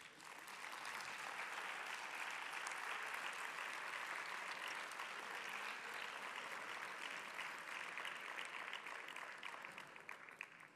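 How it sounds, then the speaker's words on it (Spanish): Warm applause from a conference audience welcoming a speaker to the closing lecture of a congress in Aragon, dense, even clapping that holds steady for about ten seconds, then fades slightly near the end. "Recibimos con un aplauso cariñoso a Javier Olivera"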